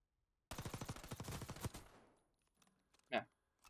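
Rapid automatic fire from an LC10 submachine gun at a video game firing range, one loud burst of about a second and a half of fast, evenly spaced shots tailing off, followed by a single sharp report.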